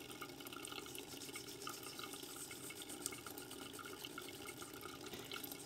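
Steady running water from a tap rinsing a coin found with a metal detector, a continuous broadband rush with faint splashing, close by and unbroken throughout.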